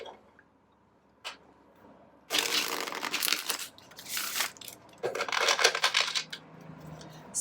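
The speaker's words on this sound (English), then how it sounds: "one little shuffle and off we go." Tarot cards, an Angel Tarot deck, are shuffled by hand in quick papery bursts of riffling and slapping, starting after a quiet pause, close and fairly loud with no talk.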